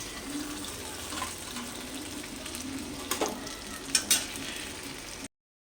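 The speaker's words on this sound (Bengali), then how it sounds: "এটাকে আমি ঢাকা দিয়ে দিয়ে ভেজে নিয়েছি এ দেখো বেগুনগুলো ভাজা হয়ে গেছে" Aubergines frying in oil in a covered pan (karai) in a home kitchen, giving a steady low sizzle with a few sharper clinks and scrapes near the end, with no voices.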